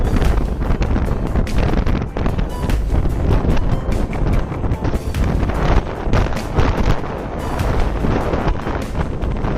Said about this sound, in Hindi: ये हवा चल पड़ी अचानक से, मुझे पता भी नहीं आ रही कि मेरी आवाज आप तक पहुंच पा रही है नहीं